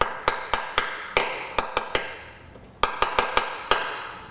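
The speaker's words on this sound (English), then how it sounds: "If you give it a light tap" A hammer taps a bit seated in the transfer case plug of an Audi Q7 in a rapid string of sharp metallic knocks, close and loud, with a short pause midway before a second burst.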